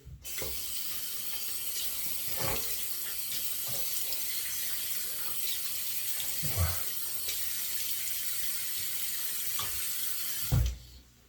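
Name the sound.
water running from tap, rinsing the razor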